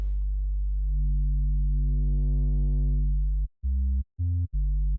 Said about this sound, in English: It's a bit more square sounding because I've got this distortion, soft saturation applied to the sine wave.